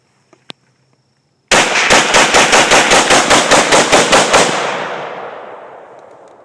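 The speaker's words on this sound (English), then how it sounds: "Let's do a little bit of rapid fire here." Steyr AUG A3 rifle fired rapidly, a fast string of about a dozen loud, close shots in steady rhythm with a ringing tail fading afterward, preceded by a couple of faint clicks.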